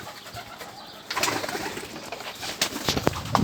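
A pair of champion racing pigeons with their young in a loft coo softly and steadily up close, a low continuous murmur with a few brighter calls and rustles.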